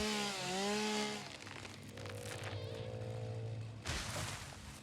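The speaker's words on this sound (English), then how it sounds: "Am I able to chainsaw this?" Chainsaw cutting through trees in the video game Satisfactory, a loud sustained motor whine with a rising rev at the start, then steady droning cuts and a sharp burst near the end, with no talk.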